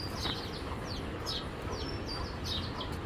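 Pigeons in a loft, giving repeated faint, high chirps and squeaky calls at close range over a steady low background hum.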